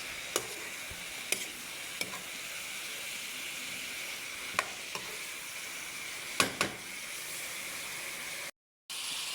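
Chicken curry sizzles in a hot pan with a steady frying hiss, broken by a few sharp scrapes and taps of a spoon stirring against the pan.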